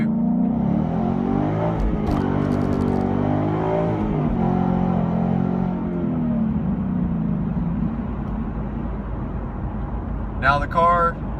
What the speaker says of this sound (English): I'm going to go ahead and just do a quick little pull to show you what the car can do